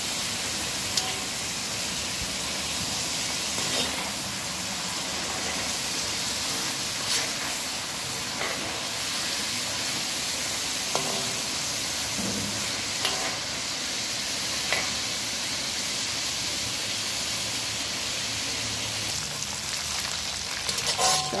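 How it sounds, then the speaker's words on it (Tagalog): Chicken liver frying in oil, with a dense, continuous sizzle like rain running all the way through and occasional soft scrapes as the pieces are stirred, close and loud. "haluin lang lagi guys para pantay po yung pagkaprito ng chicken liver"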